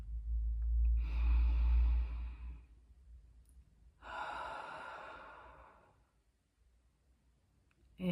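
Deep, slow breathing close to the microphone: a long drawn breath and a sighing exhale, a pause, then another long airy exhale, with a quick intake at the very end.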